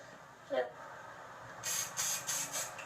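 Several short bursts of hairspray hissing from an aerosol can up close, coming in quick succession after a brief voice sound.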